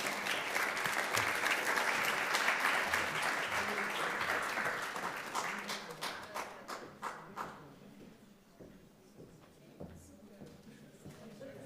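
Audience at a Council of Europe Parliamentary Assembly event applauds in a hall, with loud, full clapping for about six seconds that thins into scattered, fading claps and ends with a few isolated claps and quiet room sound.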